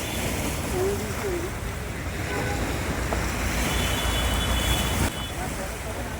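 The tidal bore on the Hooghly River surges and churns in a steady, loud roar, with gusty wind buffeting the microphone throughout.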